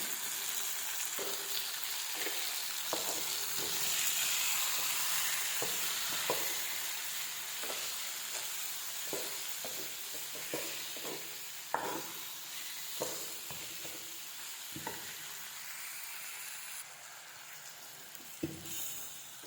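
Raw mango sizzles in oil for a simple mango kuzhambu while a spoon stirs the pan, with repeated scraping clicks over a steady frying hiss. No one speaks.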